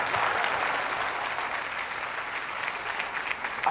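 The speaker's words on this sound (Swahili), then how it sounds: "Makofi kwake." Studio audience clapping to welcome a guest on a community development show, a dense, even burst of applause from a crowd, steady and fairly loud for the whole stretch.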